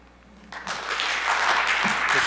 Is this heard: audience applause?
yes